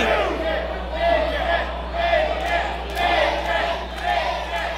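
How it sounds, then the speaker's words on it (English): A wrestling crowd at an indoor show chants in a repeated two-beat rhythm, swelling and falling about once a second, loud and close with general crowd noise underneath. "And the crowd chanting bacon at Mr."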